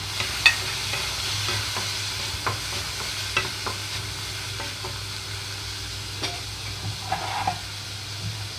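Chopped tomato goes into a pan of frying onions for ridge gourd curry: a continuous sizzle broken by repeated scraping, tapping stirs at an uneven rhythm, close up and with no talking.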